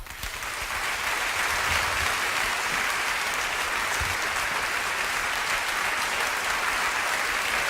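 A theatre audience at the Borštnik festival in Maribor breaks into applause that swells in over the first second, then holds as a full, even roar of many hands clapping for several seconds.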